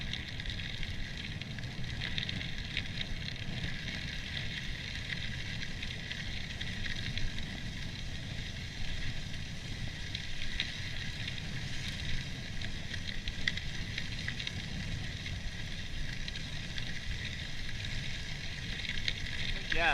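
A fully loaded Cannondale Topstone 4 gravel bike rolls over a gravel path at about 22 km/h, giving a continuous crunching tire rumble mixed with wind noise, steady and close throughout.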